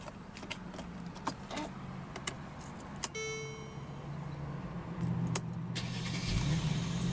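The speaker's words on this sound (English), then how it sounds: "let's go ahead and start the engine." A 2014 Mercedes-Benz C 350 4MATIC Coupe starts up with a brief crank and catch at about three seconds, settling into a steady idle that swells slightly toward the end, preceded by soft clicks and cabin handling noises.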